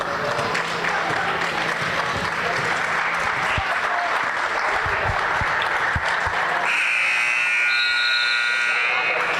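At the end of a women's college basketball game in a gym, a crowd cheers and claps under talk, then a loud, sustained final buzzer blares over the noise for the last few seconds.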